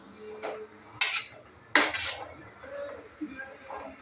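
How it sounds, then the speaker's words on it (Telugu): Utensils clatter against a cooking pan as potatoes go into browned onions with cumin, mustard seeds and mint, with two sharp metallic clanks, quieter scraping and faint stirring, close by and without talk. "ఆలుగడ్డలు వేసేసుకుందాం."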